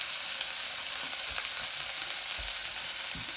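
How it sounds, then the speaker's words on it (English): Pureed creamed corn hitting a hot pan: a dense, steady sizzle and crackle throughout, close and loud, with faint stirring taps underneath. "Then I'm going to put in the creamy corn that I pureed."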